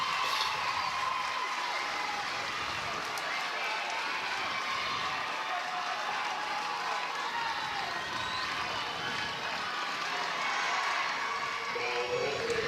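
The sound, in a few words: large softball stadium crowd, record attendance of 5,410 fans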